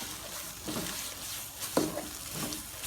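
Thinly sliced pork stir-frying in a pan for Thai panang curry, with a steady hiss of frying and intermittent stirring scrapes, including one sharper clack of utensil on pan, close and moderately loud with no talking.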